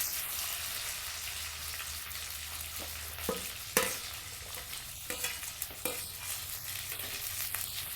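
Tomatoes softening in hot oil in a pan for a crab curry, a steady low sizzle with a few sharp stirring clatters near the middle, close and moderately quiet, no talking.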